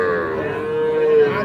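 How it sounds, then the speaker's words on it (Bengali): A Sahiwal bull calf at a cattle market gives one close, sustained moo that swells slightly toward its end, with no other sounds on top. "শাহিওয়াল ষাঁড় বাচ্চা।"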